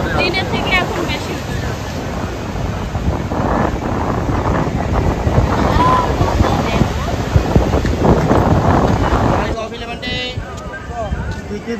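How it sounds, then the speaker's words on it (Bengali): Sea waves breaking at Digha beach under strong wind. The surf rumbles steadily while gusts buffet the microphone, and voices murmur faintly in the background. "দেখো একটু কেমন ঢেউ। যত জোরে জোরে হাওয়া হবে তত জোরে জোরে"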